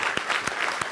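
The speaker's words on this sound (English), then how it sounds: "Big round of applause for the speakers and presenters." An audience claps for the speakers and presenters at a Q&A session, a brief burst of steady indoor applause.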